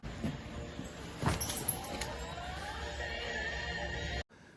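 A pony neighs in a phone-recorded clip played back, a rising whinny amid broad noisy background and rustling, moderately loud, ending abruptly.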